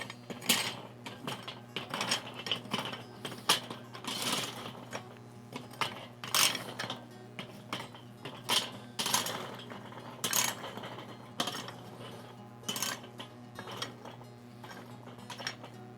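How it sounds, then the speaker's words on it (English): Charcoal on a grill is raked over to one side, giving a series of irregular metallic scrapes and clinks from the tool and coals, close and fairly loud, with short pauses between strokes. "if you raked all your charcoal over to one side"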